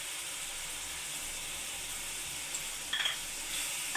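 Coriander-cumin powder and chili powder sizzle in hot oil before stuffed kantola go in, making a steady, fairly quiet frying hiss, with a faint stir or scrape near the end.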